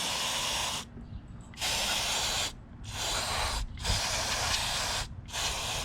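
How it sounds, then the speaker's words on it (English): Brake parts cleaner sprays onto a lawn mower in four long hissing bursts separated by short pauses, close and fairly loud. "Okay, so let's brake clean this."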